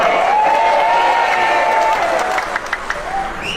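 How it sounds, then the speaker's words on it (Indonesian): Audience applause at an outdoor political gathering in Cirahong with the governor, a steady wash of clapping and crowd noise that thins toward the end, with a faint whistle-like tone over it. "Tepuk tangan."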